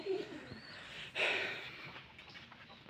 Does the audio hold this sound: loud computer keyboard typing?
no